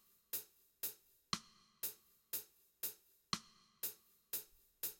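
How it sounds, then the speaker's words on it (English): Metronome click in Cubase built from a rim shot and hi-hat, ticking in an even, steady beat with a brighter accented hit every fourth click, crisp and close with nothing else playing. "which correspond to the rim shot and hi-hat as the metronome click"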